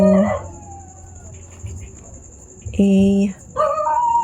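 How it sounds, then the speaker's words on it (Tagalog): A dog barks and howls in short bursts with a drawn-out wail near the end, heard indoors under a person speaking Tagalog about keyboard symbols. "pasensya na pong ingay ng aso"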